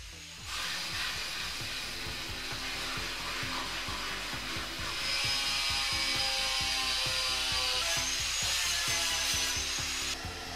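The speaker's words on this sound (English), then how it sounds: "the palm sander and the drill to polish as much of the metal as I possibly could" A palm sander and a drill polish bare metal on the body of a BMW E30 325i Sport during restoration, giving a continuous buzzing whir with a rapid low rattle that rises in pitch midway and runs steadily throughout.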